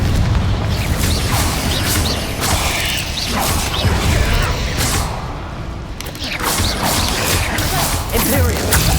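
Spell blasts and booms from the Confringo fire spell in the Hogwarts Legacy game, loud and repeated over a dense mechanical combat soundtrack, with a voice casting spells now and then.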